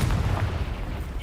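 A Confringo fire-blast spell in Hogwarts Legacy lands as a short booming explosion, loud and dense and filling the whole moment.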